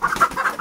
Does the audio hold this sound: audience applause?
no